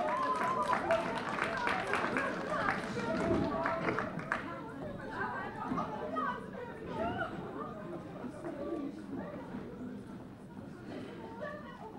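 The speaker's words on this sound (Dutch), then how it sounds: "Geef ze een applaus, de Tupperware-wiever." A theatre audience at a Limburg carnival revue claps and chatters for the Tupperware-wiever act, with busy applause and crowd babble that thin out toward the end, under a host speaking and talk in the room.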